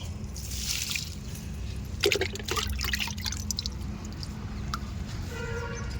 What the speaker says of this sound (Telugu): తీగబచ్చలు కూడా కొన్ని వాటర్ పోద్దాం